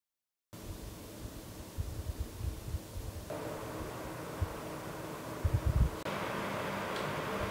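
A dimpled, golf-ball-textured PC cooling fan rated to 2000 RPM runs at about 1800 RPM, giving a steady broadband airy whoosh with a faint hum and occasional soft rustles, close and moderately quiet.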